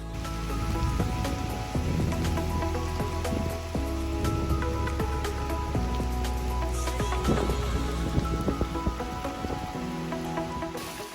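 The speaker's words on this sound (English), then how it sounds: "As the rain was pouring down," Heavy rain pours down on a mountain trail during a lightning storm, a dense continuous hiss of drops hitting surfaces close by, steady and loud throughout with no voices.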